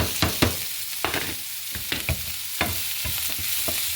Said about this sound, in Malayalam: ഇതിനകത്തേക്ക് ഇനി ക്യാപ്സിക്കോയും അതേപോലെ വെളുത്തുള്ളിയും കൂടി ആഡ് ചെയ്യാം കേട്ടോ.